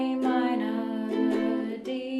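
Ukulele strums the chorus chords of a song: bright, close, ringing strums with a few distinct strokes across the phrase, played alone without voices.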